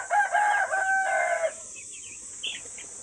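A chicken in a broiler poultry shed gives a loud drawn-out crowing call for about a second and a half, close by, followed by quieter clucks and faint bird sounds over low farm hum.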